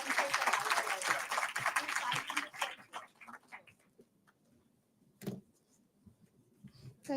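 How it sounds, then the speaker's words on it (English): Audience clapping at an international maritime conference, a dense burst of applause in the first few seconds that thins into scattered claps and then fades, with faint sounds afterward. "Please, we need more claps."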